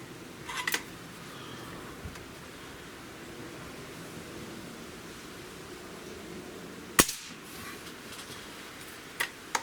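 A single sharp crack from a Norica Omnia Fire air rifle, heard outdoors over steady background noise, followed a few seconds later by a couple of fainter clicks.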